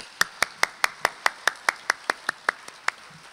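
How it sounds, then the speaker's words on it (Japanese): Rhythmic clapping at a Japanese civic election rally, about fourteen sharp, evenly spaced claps, moderately close and clear with little crowd noise behind them, slowing slightly toward the end. "拍手をお願いいたします"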